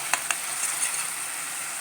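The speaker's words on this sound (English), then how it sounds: "Masala has been nicely fried up." Masala with butter frying in a pan for chilli bread, a soft steady sizzle heard close up with a couple of sharp utensil taps near the start.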